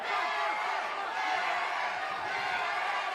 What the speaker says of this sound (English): Crowd coming alive here inside the Biloxi Civic Center for their hometown fighter, Harris Stephenson.